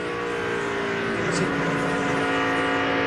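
Ryan Newman's NASCAR race car engine at the 2002 Pennsylvania 500 roars loudly and steadily at high RPM throughout, a dense sustained drone with no breaks.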